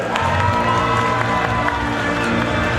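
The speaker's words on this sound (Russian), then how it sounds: "Ваши аплодисменты!" An audience at the final of a Tatar girls' contest applauds and cheers, a dense, steady wash of clapping and crowd voices filling the room throughout.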